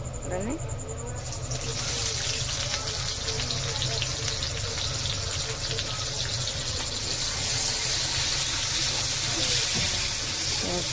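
Onions sizzle steadily in hot oil in a home kitchen pan after potatoes have been fried, a continuous close hiss that swells louder toward the end.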